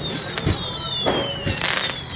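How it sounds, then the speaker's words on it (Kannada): Firecrackers burst in quick, loud succession at Rayanna Circle during a Ganesh procession, a dense crackling barrage with several sharper bangs and no voices. "ಯಾವುದೇ ಗಣಪತಿ ಬಂದರೂ ಇಲ್ಲಿ ಸೀದಾ ಸರ್ಕಲ್ನಲ್ಲಿ ಫುಲ್ ಪಟಾಕಿ ಹಚ್ಬಿಡ್ತಾರೆ"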